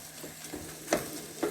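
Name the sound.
ground turkey and onions cooking in a pan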